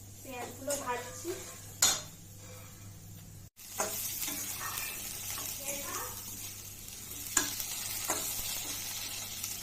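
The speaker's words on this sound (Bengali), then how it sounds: "পেঁয়াজগুলো ভাজছি।" Onions fry in a pan on a home kitchen stove with a soft continuous sizzle, broken by utensil scrapes and clinks against the pan and occasional stirring.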